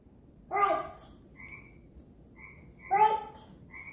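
A toddler imitates a frog's croak with two short voiced calls about two seconds apart, each answered by faint higher tones, set against quiet background hiss.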